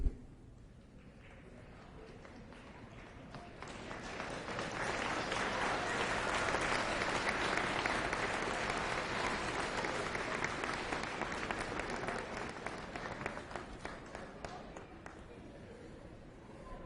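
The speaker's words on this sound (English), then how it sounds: "turn and face your family, your parents, your partners, your friends, and applaud them for the support they've given you" Graduates at a Sault College graduation ceremony applaud their families, a broad wave of clapping that swells over several seconds, holds steady, then slowly thins out, with scattered voices in the hall.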